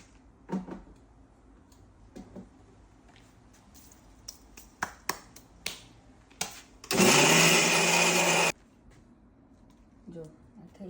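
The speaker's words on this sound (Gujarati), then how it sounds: "આ મિક્સરમાં હવે ક્રશ થશે" A mixer grinder crushes sesame seeds and coconut in one loud, steady whirring burst of about a second and a half, after scattered clicks and knocks of the jar being set and locked in place, with a person speaking around it.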